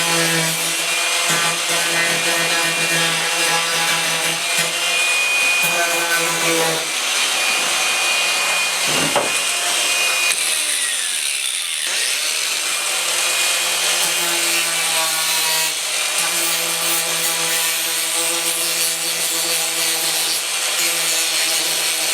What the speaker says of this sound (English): we're going to sand this down. I'll probably hit it with 80 grit